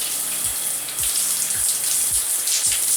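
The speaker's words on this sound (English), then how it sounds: "what I'm gonna do first is I'm going to rinse my hair" Water from a tap runs steadily while hair is rinsed, a loud, continuous hiss and splash close by with a few low thumps under it and no talking.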